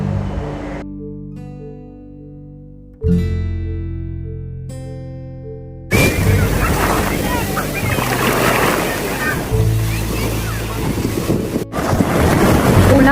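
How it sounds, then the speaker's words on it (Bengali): Surf breaking on the shore at Cola Beach in South Goa, a loud roaring wash of waves with heavy wind buffeting the microphone, after a few seconds of quieter, choppier sound at the start. "নীল সমুদ্রের জল আর পাড়ে আছাড় খাচ্ছে সাদা সাদা ঢেউ।"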